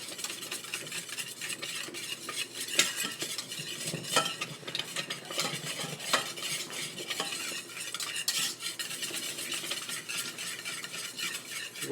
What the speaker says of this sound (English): it's starting to really bubble up, which is exactly what we want